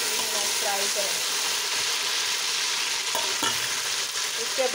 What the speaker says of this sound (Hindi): 2 चमचे मैंने घी के लिए हैं और अब हम इसमें हरी मिर्चें शामिल करेंगे और उनको 2 से 3 मिनट फ्राई करें।